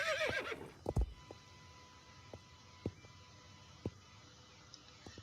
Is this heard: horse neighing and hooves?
yes